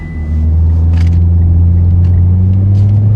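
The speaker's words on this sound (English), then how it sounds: "Let the Camaro run for a little bit." Chevrolet Camaro engine idling with a steady, loud low rumble after starting, close to the car and without speech.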